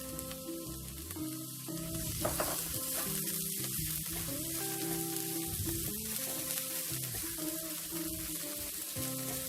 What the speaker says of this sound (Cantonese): 爆一爆呢個薑蓉同埋蒜蓉